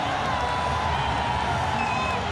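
A cricket stadium crowd roaring after back-to-back boundaries at the Pakistan vs New Zealand 2022 T20 World Cup semifinal, a dense, steady wall of cheering throughout, loud and sustained.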